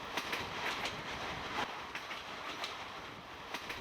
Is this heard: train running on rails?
yes